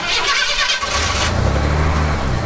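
A classic Ford F-150 XLT Lariat pickup truck engine cranks and catches at about one second, then settles into a steady, deep idle rumble close by.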